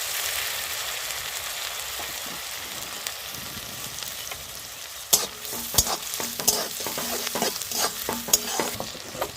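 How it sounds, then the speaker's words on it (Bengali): Onion paste and chopped onion fry in hot oil for an egg kofta curry, a steady crackling sizzle that turns busier halfway through as repeated sharp stirring scrapes break in. "তেলে দিয়ে দেবো পেঁয়াজ বাটা, দিয়ে দেবো পেঁয়াজ কুচি"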